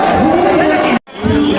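Large, noisy crowd gathered for free bicycles in India, with loud overlapping voices and shouting close by and a brief drop-out partway through.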